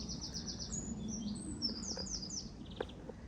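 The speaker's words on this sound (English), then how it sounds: "Can you hear the birds singing?" Small birds sing in a garden, a run of high chirps and trills that come close together, fairly faint against quiet outdoor ambience.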